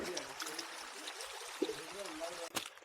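A small forest stream with very little water flows in a steady, faint trickle and gurgle, heard close and mixed with light handling noise and soft voices in the background.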